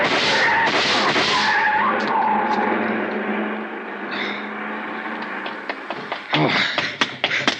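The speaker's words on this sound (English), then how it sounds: "See the car, the one that just gunned out." A car speeds off in a radio drama sound effect, a loud engine roar with tire skid that fades away, ending in a flurry of sharp tapping impacts.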